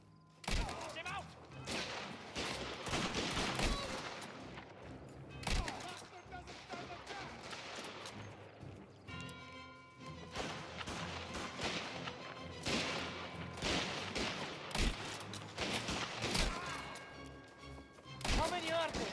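Video game shootout with rapid bursts of gunfire cracking repeatedly over the full length, loud and dense, with excited players shouting and talking throughout.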